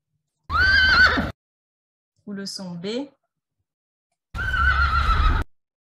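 Two recorded neighs of a Przewalski's horse, a long harmonic whinny at the start and another near the end, with a short burst of speech in between.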